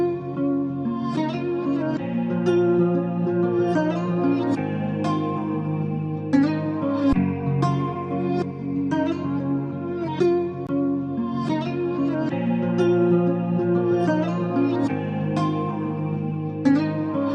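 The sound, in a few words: layered Afrobeats guitar loops played back in FL Studio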